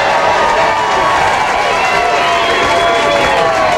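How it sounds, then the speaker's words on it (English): Dense, loud crowd noise at a professional bowling tournament: steady cheering and applause filling the whole stretch, with commentary voices underneath. "Boy, the crowd getting behind him."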